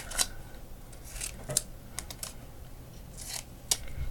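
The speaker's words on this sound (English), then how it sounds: "So we're going to cut this and then we're going to cut it into 4" Scissors snipping through a card for a handmade Christmas card, several short sharp crisp cuts spaced irregularly, close up over a quiet room background.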